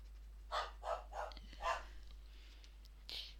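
A dog barks four times in quick succession at a moderate distance, followed by quieter noises and a short final yelp.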